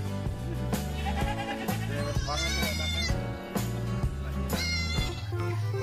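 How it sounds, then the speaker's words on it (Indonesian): A goat bleats in the dinosaur-park game Jurassic World Evolution 2, with wavering, nasal cries heard over steady, loud game music. "Wow, yang ini seekor kambing."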